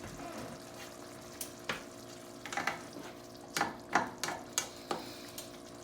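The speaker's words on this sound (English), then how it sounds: "Now that this is boiling, we're going to turn it down to medium and let it cook." Tomato-based Veracruz-style sauce for red snapper cooks in a pan, a low steady simmering hiss punctuated by several sharp clinks and taps of a utensil against the pan.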